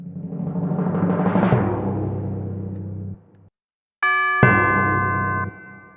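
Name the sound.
timpani and chime in a music remix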